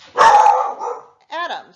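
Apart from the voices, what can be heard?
dog barking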